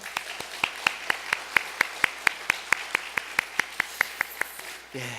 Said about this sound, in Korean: 우리 호산나 찬양대에서 한 번 더 박수하겠습니다